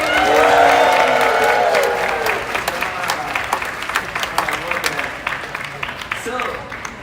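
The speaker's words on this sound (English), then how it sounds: "I want everybody to get a round of applause" An audience at a Lion King drawing class at Disney's Animal Kingdom claps in a steady round of applause that slowly thins out, with voices over it toward the end.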